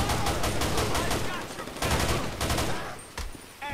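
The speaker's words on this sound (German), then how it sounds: "Oh Gott, da hinten wird geschossen." Gunfire in GTA V during a bank robbery and hostage scene, rapid bursts of automatic shots rattling in dense clusters, then a few scattered single shots as the shooting thins out.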